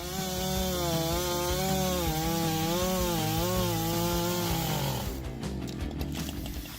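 A Husqvarna 395 XP chainsaw with a 94cc engine cuts through wood, its loud revving whine wavering steadily for about five seconds before the tone drops and the cut finishes.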